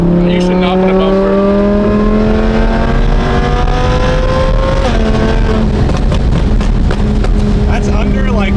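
An Audi R8 engine revs loud and close with a heavily modified, flame-shooting exhaust, rising in a long sweeping pitch, dropping briefly near the middle, then climbing again with crackles, while voices talk underneath.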